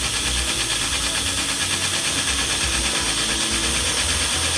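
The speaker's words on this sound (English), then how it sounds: "And it will drill a pilot hole first with the hole saw." A power drill fitted with a hole saw cuts into a plastic seed-starting pot, a loud, continuous grinding whir held close to the microphone without pause, with no talking.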